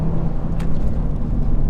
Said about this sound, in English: Let's test the brakes.